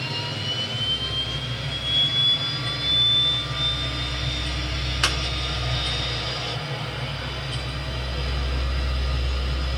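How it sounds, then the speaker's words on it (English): In a home-built flight simulator cockpit, the left engine of a Twin Otter spools up: a rising high-pitched turbine whine over a constant deep roar, with one short sharp click midway and no voices. "Right engine started, left engine."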